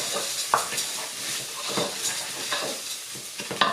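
Vegetables for a vegetable risotto being stirred in olive oil in a pan, with a steady close sizzle and a few sharp scrapes and clacks of the spoon against the pan.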